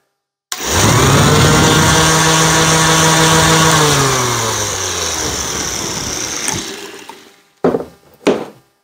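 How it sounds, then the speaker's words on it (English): Ryobi 18V random orbital sander powered by a 1.3Ah battery, starting with a loud whirring hum that holds steady, then slowly winds down and fades, followed by a few brief handling clunks. "put it into a random orbital sander, and we're going to listen to the sound of that"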